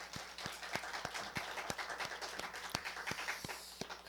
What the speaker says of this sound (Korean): 우리 하나님께 먼저 박수하겠습니다.